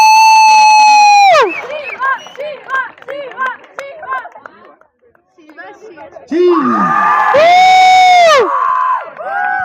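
At a prize distribution, a loud crowd whoops and cheers with long, sliding shouts, then breaks into scattered calls and chatter before a second strong burst of cheering swells near the end.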